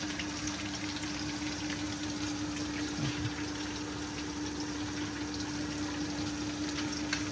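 Faint, steady stream of running tap water rinsing frozen meat, a low continuous gush with a constant pump-like hum beneath and no talk.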